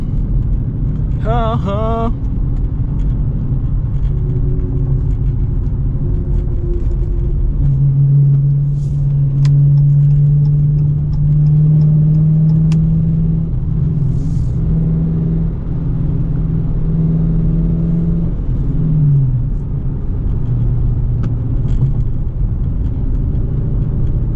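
A Dodge Challenger R/T with a manual gearbox hums steadily at low revs while cruising in 4th gear, a deep droning exhaust note filling the whole stretch, with a brief chirp near the start.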